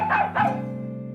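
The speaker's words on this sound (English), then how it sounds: "In the garden, Nana looks at the sky and barks." A dog barks outdoors in a garden, giving two quick, close barks followed by a fading tonal whine.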